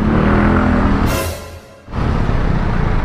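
Busy road traffic on Tandang Sora Avenue heard from an electric bike, a dense steady roar of passing vehicles and engines that briefly thins before surging back, loud and close.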